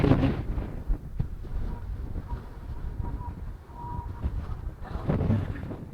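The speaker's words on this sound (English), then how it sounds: "Got a bit of downhill that'll make it even more windy." Strong, steady wind noise buffeting the microphone while mountain biking downhill, a loud continuous roar with gusty swells and a few thumps throughout.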